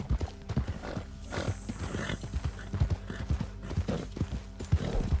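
Horse hooves clip-clop in a steady rhythm as a horse travels through Red Dead Redemption 2 Online, close and continuous over a low game soundscape.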